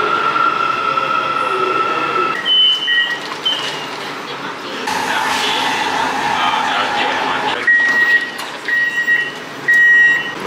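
Ride aboard a Kuala Lumpur metro train: steady rumbling rail noise inside the car with repeated high beeping tones and squealing wheels, voices murmuring underneath.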